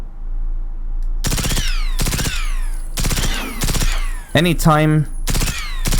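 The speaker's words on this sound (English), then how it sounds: "you see me shoot and it looks like I'm missing, those are actually warning shots just to try to scare them away" Loud single gunshots in the game Generation Zero, fired as warning shots, spaced about a second apart with ringing tails, followed by a short spoken word and a rising electronic tone.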